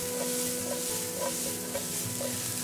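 Diced pre-cooked sweet potatoes tossed with onions and garlic in olive oil in a pan for a turkey hash, a steady close sizzle with repeated light stirring scrapes and no voices.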